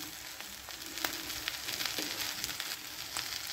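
Eggs and tapioca fry in a pan with a steady, close sizzle and a few soft stirring clicks, and no voices.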